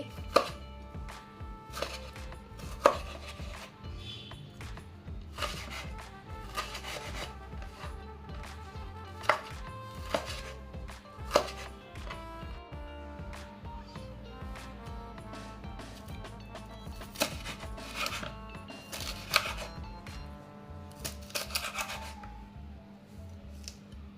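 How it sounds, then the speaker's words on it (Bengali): A knife chops tomatoes repeatedly against a board, sharp irregular cuts in quick bursts with brief pauses, close and clear with no talking. "প্রথমে আমি টমেটোগুলোকে এভাবে কেটে নিচ্ছি।"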